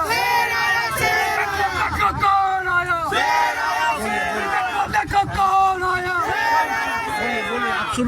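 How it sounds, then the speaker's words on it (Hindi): A political rally crowd greets an AIMIM candidate, Shan Ali Khan, with loud, continuous cheering and shouting that swells and surges throughout, dense massed voices filling the space. "जोरदार तालियों से उनका इस्तकबाल हो"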